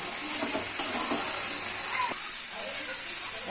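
Ginger, cumin and chilli paste sizzles and hisses in a hot pan while being stirred, a steady frying hiss with a brief clatter near the start, fairly faint and close.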